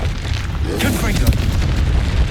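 Booming spell blasts in the Hogwarts Legacy game, the Confringo fire spell, going off in a steady stream of explosive bursts under continuous loud combat noise and low rumble, with talk over the top.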